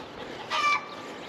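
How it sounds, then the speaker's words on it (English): Brief burst of chicken clucking and squawking rising out of steady outdoor background noise, close by, with no talking. "My chickens, they're singing hallelujah."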